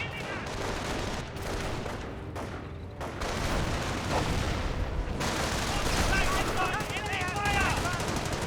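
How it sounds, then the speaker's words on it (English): A .30 cal machine gun fires on a motorcycle in the World War II strategy game Company of Heroes, a dense rattle of gunfire and blasts that grows louder and busier partway through, with battle noise throughout. ".30 cal firing against the motorcycle."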